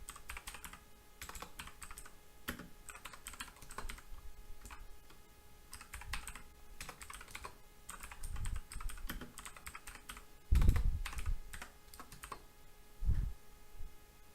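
Steady clicking of computer keyboard keys as code is typed, light irregular taps with a few louder strikes, fairly close with a faint hum beneath.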